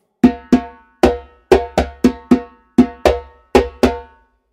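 Timbal slaps and open tones from a timba rhythm lesson, played alone as about eleven sharp, ringing metallic strikes in a steady, syncopated pattern, close and loud with no talking.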